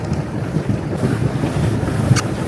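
Steady low rumble of a boat moving across a lake, with wind buffeting the microphone throughout.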